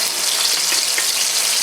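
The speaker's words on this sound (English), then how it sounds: "So I'm using a tongue here to put the plantains in." Plantains sizzle loudly in hot oil in a large frying pan, a bright, constant frying hiss close by with no talking.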